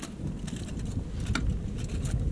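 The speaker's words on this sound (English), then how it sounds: "It's real windy out here, so it's blowing all my seasoning away." Gusty wind rumbles against the microphone outdoors at Collins Lake, a dense low roar throughout with a few faint clatters on top.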